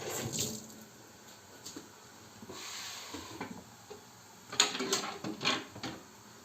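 Tap water runs in short faint bursts as a vegetable is rinsed at a kitchen sink, with quiet splashes, clinks and pauses between.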